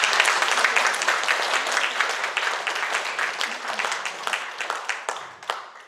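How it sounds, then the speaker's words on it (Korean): Audience applause at a Syngman Rhee presidential forum event: dense, steady clapping from a crowd close by, filling the whole stretch and tapering slightly near the end, with no speech over it. "박수 한번 해요."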